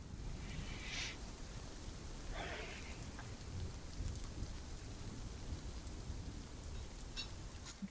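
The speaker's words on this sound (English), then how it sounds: "It is still raining." Steady rain falls on a surface outdoors, a soft continuous hiss with a couple of brief brighter splashes, faint and distant, no voices.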